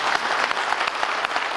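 A television mugham contest audience applauds a jury member, a steady dense wash of clapping from many hands that fills the whole stretch with no voice over it.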